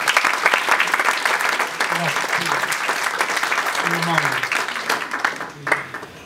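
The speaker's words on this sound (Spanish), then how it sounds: "Un cálido aplauso al señor Sola" An audience applauds a speaker at a business conference in Lima presenting a large real estate project. The clapping is dense, sustained, near and loud, with a voice speaking over it, and it tapers near the end.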